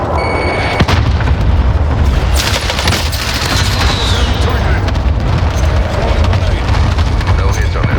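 Airstrike explosions in the Call of Duty: Modern Warfare video game, with a sharp blast followed by a dense, continuous barrage of rumbling booms and gunfire that stays loud throughout.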